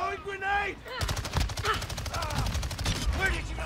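Rapid bursts of gunfire from a gun in Call of Duty: Modern Warfare II, a dense rattling string of shots with a voice talking over the start and again near the end.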